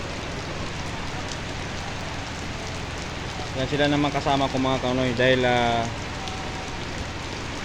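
Steady heavy rain drums on a jeep throughout, while a person talks over it in the middle.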